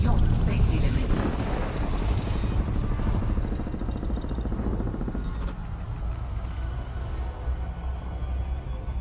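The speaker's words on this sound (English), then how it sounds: "Frameshift drive charging." A frame shift drive charges aboard a ship in the game Elite Dangerous: a loud, steady, engine-like roar and rumble that fills the whole stretch, with a voice speaking over it.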